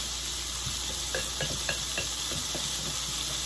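Cabbage and onions stirred in olive oil in a pan, a utensil scraping and tapping in a quick rhythmic series over a steady faint sizzle, close and fairly quiet.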